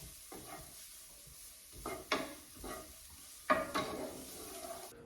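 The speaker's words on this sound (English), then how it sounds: "we're going to add 2 cloves of garlic. Okay, we're just going to simmer that for just a couple minutes." Garlic cloves simmering in a pan for meatloaf, a quiet steady sizzle broken by a few louder stirring scrapes and clatters of a utensil against the pan.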